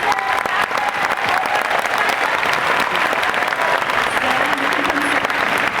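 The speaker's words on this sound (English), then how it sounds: "And a big round of applause for Chris Jackson, the organizer." Enthusiastic applause from a large crowd at the Planet Comicon comic convention in Kansas City, loud continuous clapping with scattered cheers and a brief voice near the end.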